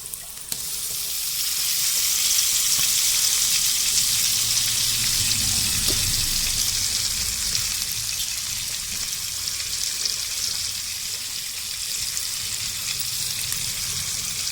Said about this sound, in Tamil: அந்த மசாலா கூட சேர்த்து இந்த மூளையை நம்ம வந்து நல்லா வதக்கலாம்